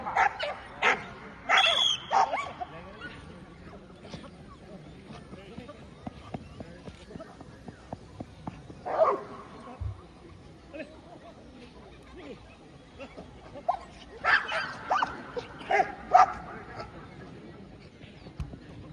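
Police K9 dog barking and yelping at a decoy who agitates it during a demonstration, with sharp bursts of barks spread across the stretch and an announcer and crowd talking in the background.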